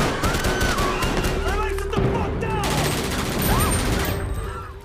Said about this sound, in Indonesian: Suara tembakan tersebut pun langsung diketahui oleh polisi